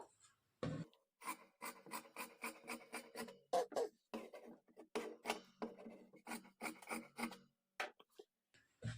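Scissors snipping through fabric to cut a sleeve, a quiet run of rhythmic crisp rasping cuts, each a short swish separated by brief pauses, close and alone.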